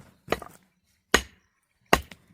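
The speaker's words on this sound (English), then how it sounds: "He now begins hammering the ground, breaking loose large stones hidden beneath the soil." Three heavy, sharp hammer strikes on the ground, breaking loose large buried stones, land about a second apart, close and loud, with brief rattling after each and silence between.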